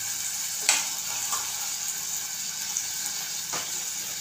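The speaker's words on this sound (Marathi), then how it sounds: "कांदा चांगला लाल करायचा" Onions fry in oil until browned for a bottle gourd and chana dal sabzi, giving a steady, even sizzle with a couple of soft clicks from the pan.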